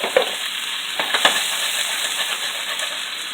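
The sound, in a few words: broccoli and onions stir-frying in pan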